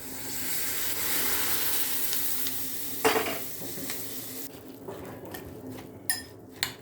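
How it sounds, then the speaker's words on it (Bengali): Hot oil is poured over ground chillies and gives a loud, close sizzle that gradually fades. A few sharp metallic clinks of a spoon or pot follow, with no voices. "তেলটা গরম হয়ে গেছে, এবার ঢেলে দেবো লঙ্কার মধ্যে তেলটা দিয়ে দিলাম"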